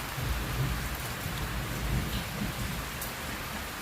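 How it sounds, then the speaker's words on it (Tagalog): Steady, dense rain pouring outdoors in the Philippines, a loud continuous hiss with a low rumble underneath and no pauses, close and even throughout. "yung ating ulan ngayon ay medyo kumalma na"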